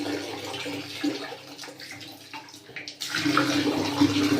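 Hot water runs steadily from the tap of an instant electric water heater, a continuous splashing rush that dips briefly and then comes back stronger and louder.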